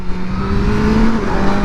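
A sports car's engine revs hard under launch acceleration, making a loud, close, steady roar with a rising pitch that lasts through the short burst.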